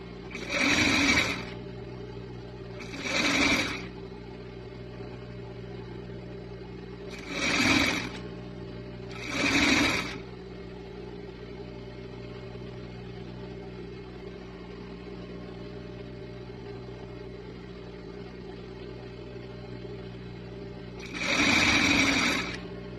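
A sewing machine stitching a double-folded hem on a strappy dress with a ruffle, running in five loud, close bursts of a second or two each, separated by quiet pauses over a steady background hum.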